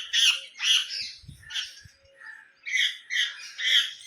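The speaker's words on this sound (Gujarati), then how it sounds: "જો આ ચકલું" A sparrow gives a run of harsh, close chirps in short bursts, several in quick succession with a brief pause midway and a soft low thump in between.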